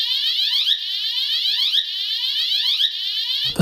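A Tecnofire fire alarm siren sounds alone, loud and close, with repeated rising sweeping whoops, about three per second-long cycle, cutting off abruptly at the end.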